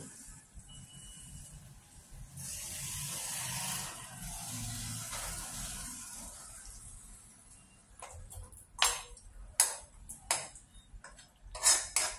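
Metal utensils scrape and clink against a pot and bowl as thick chilakada dumpa (sweet potato) curry is served, soft stirring first, then several sharp distinct taps near the end.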